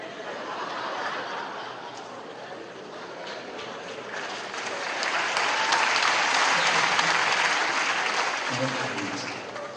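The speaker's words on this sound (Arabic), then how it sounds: "ياسر تصفيق" An audience applauds in a hall during a cinema festival broadcast, a dense, continuous wash of clapping that swells louder toward the middle and then eases, with a few chuckles mixed in.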